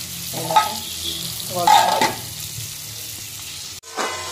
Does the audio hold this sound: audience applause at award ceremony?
no